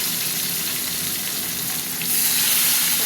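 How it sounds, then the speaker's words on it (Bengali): Four cut pieces of rohu-type fish frying in hot oil in a home kitchen, a loud continuous sizzle with crackle that swells brighter and harsher near the end, no talking. "এবার মাছটা ছাড়ি, গরম হয়ে গেছে তেল।"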